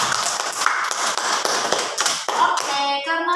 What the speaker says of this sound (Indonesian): tepuk tangan untuk Mbak Dina sama Mbak Dewi.